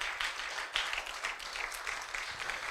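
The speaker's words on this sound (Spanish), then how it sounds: "dale un aplauso a Cristo Jesús." A church congregation breaks into applause, a dense, steady wash of many hands clapping at moderate distance for a few seconds, with no one speaking over it.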